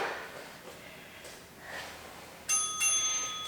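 A single bright electronic interval bell for a no-equipment bodyweight HIIT workout rings out loud and clear near the end, ringing on briefly after a stretch of quiet room tone with no talking.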